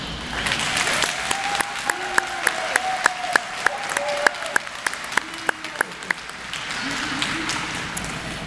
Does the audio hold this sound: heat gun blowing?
no